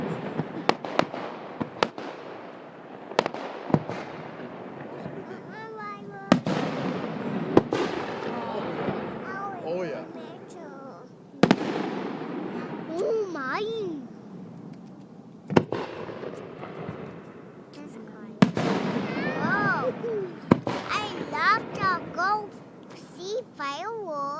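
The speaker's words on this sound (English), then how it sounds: "fireworks. That's real high." Fireworks burst overhead at a public display, a series of sharp booms and crackling pops spaced irregularly over the scene, with whistling shells and excited children and adults chattering in the crowd throughout.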